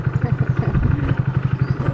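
A motorcycle engine chugs in a steady, rapid pulsing rhythm, close and moderately loud, as two riders set off on a family trip to Mantralaya.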